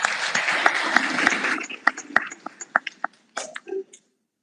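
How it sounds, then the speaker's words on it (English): Applause from a symposium audience greeting a session speaker, dense at first and then thinning into scattered single claps that die out after about four seconds. "A round of applause, please."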